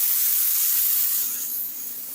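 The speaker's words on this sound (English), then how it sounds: "Let me go ahead and hit this with some clear to protect our last airbrush layer." Airbrush spraying clear coat onto a painted HJC motorcycle helmet, a close, steady high hiss that fades slightly toward the end of the short burst.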